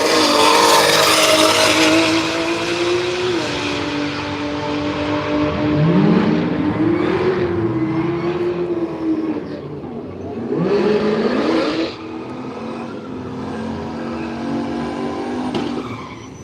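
A Toyota Supra drag car launches down the strip at Willowbank Raceway, its loud engine roar climbing and falling through several sharp pitch sweeps before easing off into the distance.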